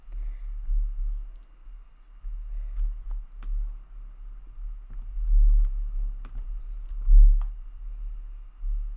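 Keys clatter on a computer keyboard in uneven bursts of quick clicks while text is entered into an AI website builder, fairly faint over a low background hum.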